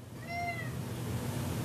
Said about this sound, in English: My cat is agreeing with me.